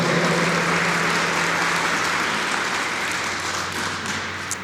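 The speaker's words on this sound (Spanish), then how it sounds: "Si le va a aplaudir, hágalo fuerte." A church congregation applauds loudly during a Spanish-language sermon, a dense steady wash of clapping that fades slightly toward the end, with no voices over it.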